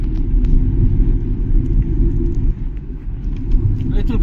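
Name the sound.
cars idling in a queue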